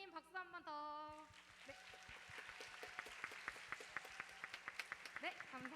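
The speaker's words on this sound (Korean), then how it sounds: "오늘 저희 설교해주신 감사한 마음을 담아서 장선우 목사님 박수 한 번 더" In a church youth service, the congregation claps for their pastor after a sermon; a voice speaks briefly, then scattered hand claps follow, faint and distant in the room.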